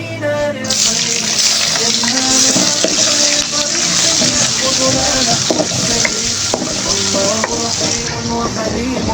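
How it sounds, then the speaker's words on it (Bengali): Shrimp sizzle loudly with black cumin and lightly fried onion in a hot pan, a constant close frying hiss with repeated scraping stirs of a spatula throughout. "কালো জিরাটা দিয়ে একটু নেড়ে চেড়ে দিয়ে দিব চিংড়ি মাছ।"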